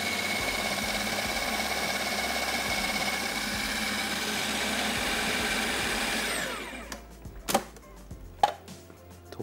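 An electric grinder runs steadily on crushed garlic masala, a loud continuous whirring drone that cuts off after about six seconds, followed by a few scattered knocks and clatters.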